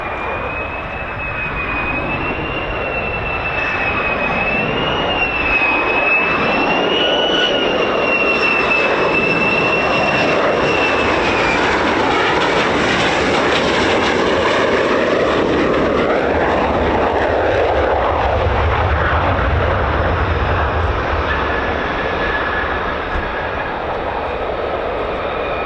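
F-15 and F-35 fighter jets landing at RAF Lakenheath, a loud continuous jet engine roar with a whining tone that swells and shifts as the aircraft pass close by, with no talk.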